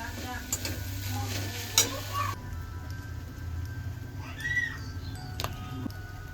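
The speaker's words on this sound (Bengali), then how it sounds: "চিকেনটা হালকা লাল করে ভেজে নেব" Chicken fries lightly in a little mustard oil, a quiet, low sizzle that continues under occasional clinks and scrapes of a utensil, with faint background sounds and no clear speech.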